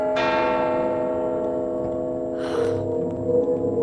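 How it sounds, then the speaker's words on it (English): A bell chime rings out in the FNaF Help Wanted video game as a doorbell, one sustained struck tone with long ringing overtones that decays slowly, followed by a brief rustling burst. "Just ringing the doorbell."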